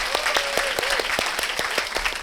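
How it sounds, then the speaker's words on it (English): A crowd claps steadily with scattered sharper hand claps standing out, loud and sustained throughout, with no voices. "give them a big round of applause to them"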